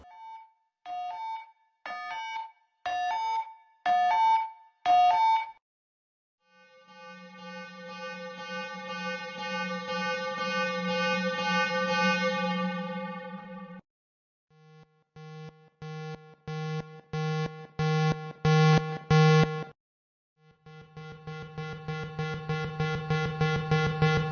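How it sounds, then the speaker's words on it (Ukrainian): Official Ukrainian air raid alert signals in sequence: short repeated electronic beeps, a long sustained siren-like tone, then rising pulsed bursts and a fast repeating beep pattern, loud and clean with gaps of silence between them. "Далі офіційне відео Міністерства цифрової трансформації про те, як звучать різні сигнали тривоги."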